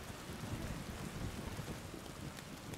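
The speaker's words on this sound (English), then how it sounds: "The rain's not helping the mood." Rain and thunder in the video game Yakuza Kiwami: a steady, fairly quiet rainfall hiss with low rumbling thunder underneath, continuous throughout.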